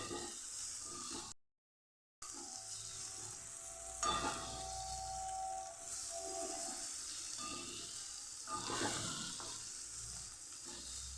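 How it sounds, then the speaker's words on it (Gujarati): Spice-coated okra sautés in oil in a pan, a steady sizzling fry with stirring scrapes running throughout, close and fairly loud, broken by one brief silent gap near the start. "સરસ તેલ સાથે આપણે મસાલાને એટલે મસાલાથી કોટિંગ કરેલા ભીંડાને સાતડી લેવાના છે"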